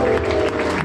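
A church congregation applauds in acclaim of Jesus during a service, a brief burst of dense crowd clapping heard from within the room, with no talk over it.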